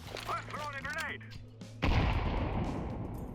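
A CS2 HE grenade bursts with a sudden loud blast partway through, its broad rumbling roar trailing off to the end, after quieter game sounds and a brief synthetic voice-like tone.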